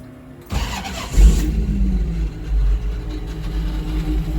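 A 1982 Jeep CJ7's carbureted V8 cranks briefly, catches with a loud burst, then settles into a deep, rumbling idle with a couple of revs, close up.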